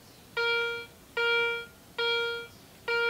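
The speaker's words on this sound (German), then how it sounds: "Das ist jetzt ein sehr heller Ton." A metal detector over a silver bar gives a high, bright electronic tone in four steady repeated beeps, each about half a second long with short gaps, loud and close with no talk.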